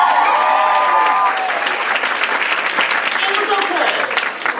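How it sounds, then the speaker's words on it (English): Audience applause fills a theatre gala as a community theatre's May 2018 production of Sweeney Todd is announced, a dense, steady wash of clapping with some cheering voices, loud throughout and easing slightly at the end. "Pause for applause."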